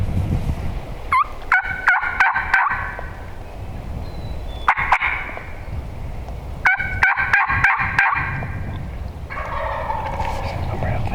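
A wild turkey on public land gobbles from across a field in several rattling bursts, each a quick string of sharp notes, carrying clearly over open outdoor ambience from a moderate distance.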